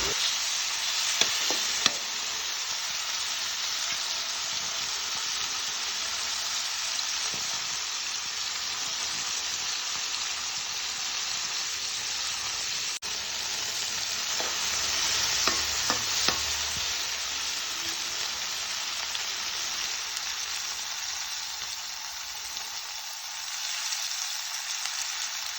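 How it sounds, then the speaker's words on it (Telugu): Three tomatoes fry in a pan with onions, sizzling in a steady broadband hiss for the whole stretch, with occasional soft stirring scrapes. "త్రీ టమాటోస్ తీసుకో, అవి కూడా వేయించాలి బాగా."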